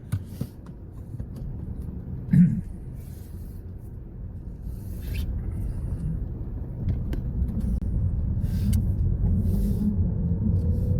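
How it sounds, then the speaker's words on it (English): A manual car moving off down the road, its engine a low rumble building steadily from inside the cabin, with a brief knock early on. "Okay, so we're going to move off down the road."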